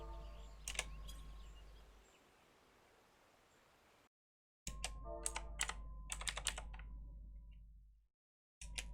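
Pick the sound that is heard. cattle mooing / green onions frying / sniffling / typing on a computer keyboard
typing on a computer keyboard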